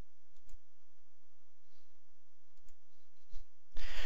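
A computer mouse clicks a few times while someone works in ArcGIS 10.1 software, giving faint, sharp, isolated clicks over a low background hum, followed by a louder burst of noise near the end.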